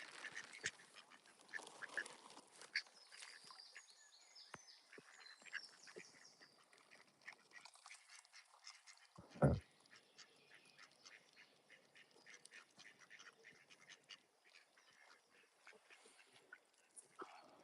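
A group of ducks quack and chatter continuously at a moderate distance outdoors, the calls overlapping in busy irregular bursts, with one sharp louder knock partway through.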